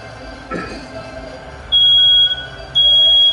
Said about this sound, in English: There's that smoke alarm again.